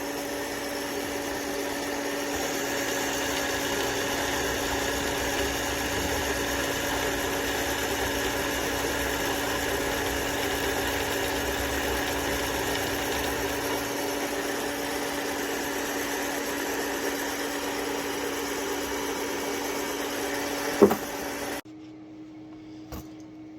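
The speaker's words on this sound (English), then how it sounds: "I just trimmed this case down" A power trimmer cuts 6.5 Grendel brass cases down to 6mm ARC with a steady, moderate motor hum and whine. It runs evenly for about twenty seconds, then a brief clatter and sudden stop leave a faint residual tone.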